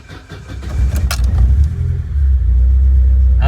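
1991 Vauxhall Nova GSi cranking and catching on a cold start, a brief clatter and burst before the engine settles into a loud, steady low idle rumble close by.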